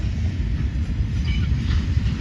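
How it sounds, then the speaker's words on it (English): A northbound CPKC freight train rumbles past in a steady low roar with faint rail clatter, loud and continuous. "we're looking at a train here. The old CPKC going by, northbound."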